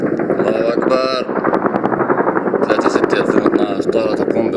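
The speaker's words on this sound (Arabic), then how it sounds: "طائرة تقوم بقصف منازل المدنيين" A military aircraft bombing civilian homes in Anadan near Aleppo, Syria, in 2012 drones with a loud, pulsing rotor-like beat overhead, while people shout and talk close by throughout.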